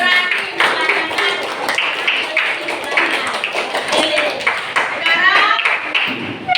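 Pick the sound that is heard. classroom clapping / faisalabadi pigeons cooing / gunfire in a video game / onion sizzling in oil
classroom clapping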